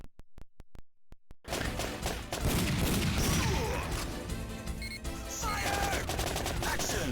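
Rapid bursts of airsoft gunfire: a few sharp isolated pops, then dense continuous crackling shots and impacts, loud and close.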